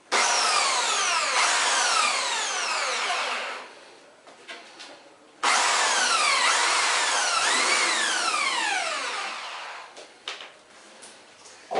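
A power drill bores a hole in recycled wood in two loud bursts of rising, whirring pitch sweeps, each lasting several seconds, with a short quiet pause between them and faint handling noises after.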